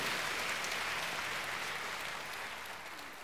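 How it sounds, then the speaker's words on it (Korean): Church congregation applauds in welcome during a Sunday service, a steady, even wash of clapping from a large room, moderately faint and slowly fading, with no talk over it. "여러분 크게 박수로 환영하시죠."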